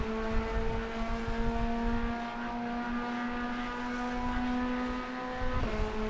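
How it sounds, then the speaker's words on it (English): A GT3 race car engine in a racing video game at Spa holds a steady, sustained high drone with a slight pitch shift near the end, loud and continuous with no talk. "Listen to the engine going through here."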